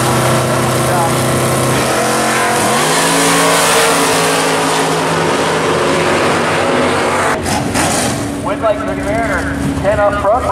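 Hot rods and classic custom muscle cars roar loudly at a drag strip, engines revving and shifting pitch as they launch, with a continuous thick mechanical din throughout.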